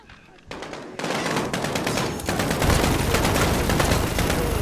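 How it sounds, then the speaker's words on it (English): A minigun in the Modern Warfare video game fires long, sustained bursts: dense, rapid rattling gunfire that starts in short spurts, then builds into a continuous, loud roar. "Think this minigun will do anything?"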